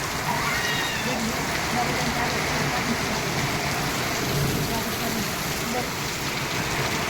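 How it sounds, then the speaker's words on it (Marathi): Heavy rain falls steadily at Pimpri Dukari in Jalna district, Maharashtra, a dense continuous hiss that stays constant and close throughout, with no pauses. "आता सध्या पाऊस चालू आहे"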